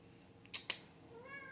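Two quick clicks are followed by a short, soft meow from a cat nearby in a quiet room.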